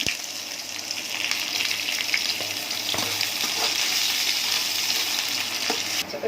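Cumin, onion and garlic sizzle steadily in hot oil, a bright continuous crackle with occasional stirring scrapes, close and alone without talk.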